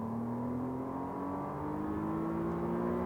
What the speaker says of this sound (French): on accélère de plus en plus